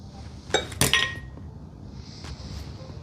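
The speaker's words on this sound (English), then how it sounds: "We're also gonna crack in 2 eggs. We're only using the yolk though." Eggs cracked into a glass bowl while preparing Italian-style meatballs, the yolks separated out: a few sharp clinks and taps of shell on glass in quick succession, then quiet handling with faint background noise.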